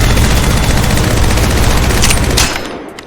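A weapon in Apex Legends Mobile fires nonstop in a loud, dense automatic stream until the magazine runs dry, then cuts off into a brief fading tail and a couple of faint mechanical clicks.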